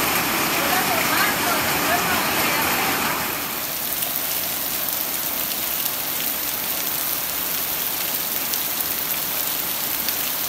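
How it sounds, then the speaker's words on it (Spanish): Steady rain patters on a surface, a dense hiss that starts a little brighter and then settles into a constant wash with no talking. "Para los que les gusta el sonido de la lluvia, escuchen."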